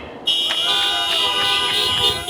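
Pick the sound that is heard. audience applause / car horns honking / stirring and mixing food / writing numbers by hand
car horns honking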